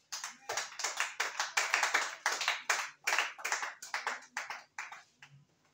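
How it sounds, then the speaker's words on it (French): Church congregation clapping together, a series of irregular bursts of handclaps at close range that build, ease off and fade out. "On acclame le Seigneur Jésus."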